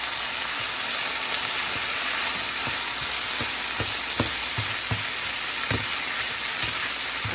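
Cashew chicken sizzles steadily in a hot pan after a splash of soy sauce, a continuous close frying hiss broken by regular soft clinks and scrapes of stirring, with no voices.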